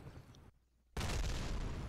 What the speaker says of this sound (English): Now, two explosions for the price of one!